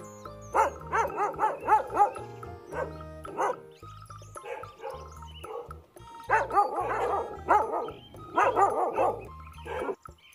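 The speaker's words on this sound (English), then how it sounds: "D for dog." A dog barks repeatedly in quick bursts, loud and close, with short pauses between volleys and a light backing tune underneath.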